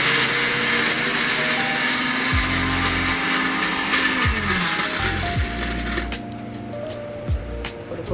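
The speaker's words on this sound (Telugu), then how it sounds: "ఇది మనం మిక్సీ పట్టుకోవడం దీన్ని." A kitchen mixer grinder whirs loudly and steadily as it grinds a capsicum masala paste, with a continuous motor drone and shifting pitch as the load changes.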